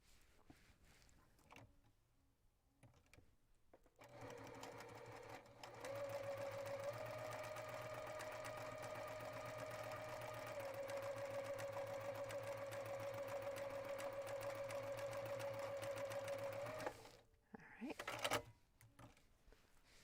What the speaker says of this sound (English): So now we're going to sew this one here.